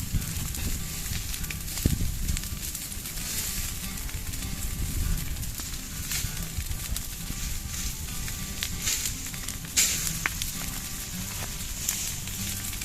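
An outdoor fire burns on a farm, crackling and sizzling steadily throughout with scattered sharp pops and snaps, heard close and fairly loud.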